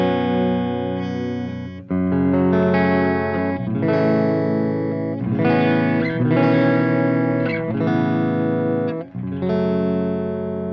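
Clean electric guitar tone from a modeled Fender Princeton amp and cab on a Line 6 Helix/HX, strummed chords ringing with a short pause between phrases, played alone and upfront with no voices.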